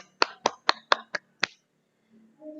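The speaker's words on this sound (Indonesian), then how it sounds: "kita beri tepuk tangan untuk kelompoknya Ferry" Six sharp, separate claps in a classroom for Ferry's group, quick and fairly close, then a faint murmur of voices.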